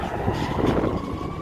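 Gusty wind buffets a handheld microphone on a downtown Chicago street during Saint Patrick's Day celebrations, a loud low rumbling roar that swells and eases for about a second and a half, with no voice.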